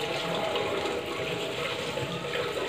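Water from a tap runs continuously as children wash their hands, a close, even rushing splash lasting a few seconds with no voices.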